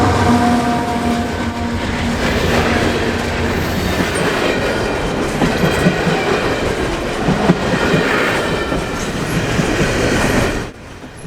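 A long Canadian Pacific coal train of hopper cars rolls past close by in the mountains with a loud, continuous rumble and rhythmic clickety-clack of the wheels, then cuts off abruptly at the end.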